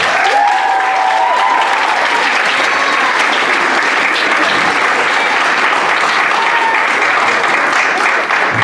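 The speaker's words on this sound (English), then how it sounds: "So give yourself a nice round of applause." New inductees at a Phi Theta Kappa honor society induction ceremony at Hostos applaud themselves. A large room fills with loud, continuous clapping, with a faint voice heard briefly at the start.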